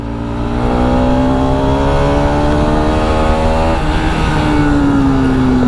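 Stock Bajaj Pulsar RS200 motorcycle engine revving hard and steadily climbing toward its rev limiter near 11,000 RPM, a loud continuous close-range whine with rising harmonics and a brief cut around the limiter.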